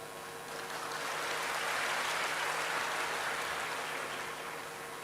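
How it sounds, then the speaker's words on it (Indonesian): Audience applause in an Indonesian hall during President Jokowi's speech, a dense, steady wash of clapping that swells in and holds loud for several seconds with no voices over it. "Kok tepuk tangan?"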